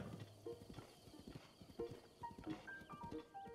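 Horse hooves clip-clop at a steady gallop in Zelda: Breath of the Wild, a rapid run of rhythmic thuds over soft in-game music and ambience, with no talking.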